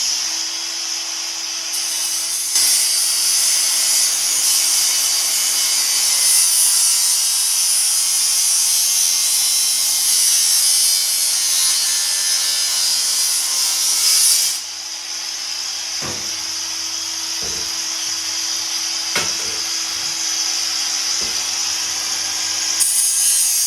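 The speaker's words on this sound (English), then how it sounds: "Always wear protective because I've been using the angle grinder." An angle grinder cutting angle bead while fixing beads around a window runs as a loud, steady high-pitched whine for about fourteen seconds. It then drops to a lower continuous drone broken by a few sharp ticks and knocks.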